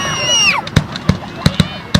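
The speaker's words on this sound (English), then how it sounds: "When they light fireworks and stuff off." Fireworks going off outdoors: a rising whistle followed by five sharp, loud cracking bangs in quick irregular succession, close by, with no talk over them.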